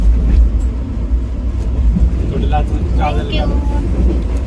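Steady low rumble and rattle of a moving train carriage, continuous throughout, with faint voices murmuring in the background.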